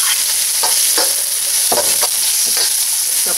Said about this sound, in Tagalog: igisa na natin yung garlic